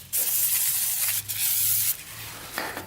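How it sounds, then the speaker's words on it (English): WD-40 hisses from an aerosol can into a seized, rusted engine cylinder of a Kawasaki Mule, two close, steady sprays of about one and one-half second each, followed by a brief short burst. "Good old WD-40."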